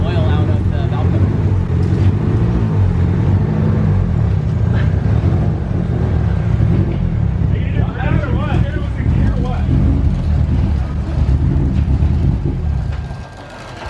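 A car engine idles steadily after a valve cover oil leak repair, a loud continuous low rumble running throughout with people talking over it.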